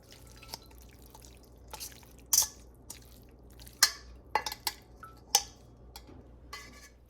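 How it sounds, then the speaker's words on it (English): Liquid is pressed out of cooked oxtail in a colander, giving sparse drips and splashes with a few sharp metallic clinks against a quiet kitchen background. "The next thing you want to do is press out all the excess liquids."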